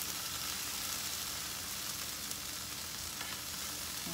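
Chopped tomatoes sizzle in a hot pan as part of a tofu scramble, giving a steady, even crackling hiss heard close up and with no one talking.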